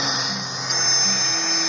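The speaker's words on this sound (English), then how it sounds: "I'm going to use like an 1/8 inch drill bit and drill a pilot hole through these" Power drill with a 1/8 inch bit boring a pilot hole while a mirrored medicine cabinet is installed in a bathroom, a brief steady high whine held close and fairly loud.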